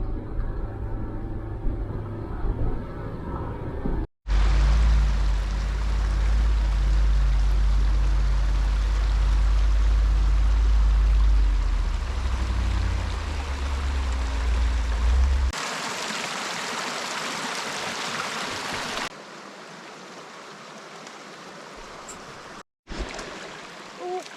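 A creek flowing beside a stopped off-road vehicle on a mountain pass trail, heard as steady broadband water rush at close range, alternating with stretches where a deep engine rumble dominates, with brief breaks.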